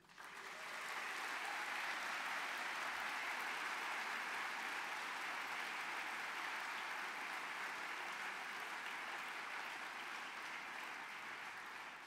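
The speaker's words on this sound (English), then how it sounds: "give yourself a big round of applause" The graduating class of 2023 gives a big round of applause at a graduation ceremony, a dense, steady wash of clapping that swells in and holds evenly for about twelve seconds. It sounds fairly distant and soft.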